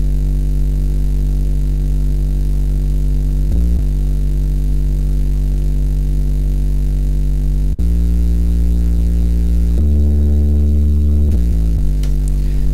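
A synthesized bass line with LFO modulation drones loudly and continuously, a thick low sustained tone whose pitch shifts a few times, with a rhythmic throbbing pulse and no talking.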